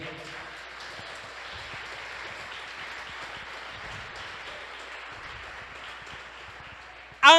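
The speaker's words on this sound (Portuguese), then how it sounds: "Então dê uma aplauso de louvor para Jesus aí." Congregation applause in a church service, a steady wash of many hands clapping that holds evenly at moderate level for several seconds, with a brief louder burst at the very end.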